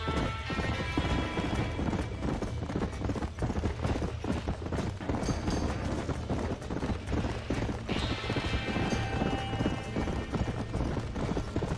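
Horses clip-clop and gallop in a fast, continuous rush of hooves, with occasional whinnies, while fleeing a burning barn in the video game Red Dead Redemption, set against a dense, loud background of fire and ambient game noise.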